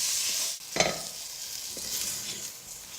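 Flour cooks in a pot of beef burgundy, giving a soft, close sizzle and scraping stir with a brief knock of the spoon, fairly quiet throughout.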